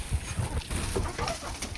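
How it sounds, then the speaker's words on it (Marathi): Free-range village chickens cluck softly and peck about at close range, with scattered short bursts of activity and no talking. "आपण हे कोंबड्याच्या घरात टाकू आणि कोंबड्या बघा तुम्ही कशा खातात"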